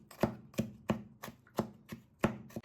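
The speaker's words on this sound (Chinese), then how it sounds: "先用刀切成蒜片，切得碎一点，然后再改刀把它剁成碎碎的蒜末" Kitchen knife mincing peeled garlic on a cutting board, seven evenly spaced sharp chops in a steady rhythm, close and clear with no voices.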